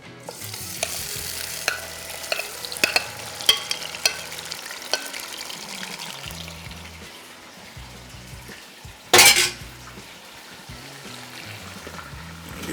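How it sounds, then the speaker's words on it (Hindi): Marinated mutton for achaar gosht sizzling in a pan of olive pomace oil, with a steady fry punctuated by clicks and stirring scrapes, and a brief loud burst of hissing midway. "पैन में हमने यहाँ पे ले लिया 1 cup olive पॉमेस oil dew drop का और अब इसमें शामिल करेंगे हम ये गोश्त"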